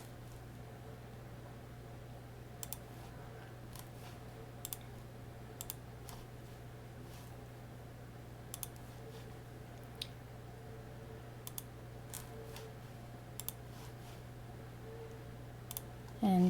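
Sparse, sharp computer mouse clicks come one or two at a time every second or so, close and fairly quiet over a steady low hum and faint room noise.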